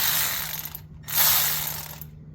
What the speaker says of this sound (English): Where's my ratchet? It's on the tightening mode.